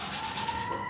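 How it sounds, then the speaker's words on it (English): Sandpaper cloth scrubs a brass water heater supply line clean, a short close, harsh scratchy rubbing with a steady rasping texture. "sandpaper cloth and go ahead and clean up our supply line"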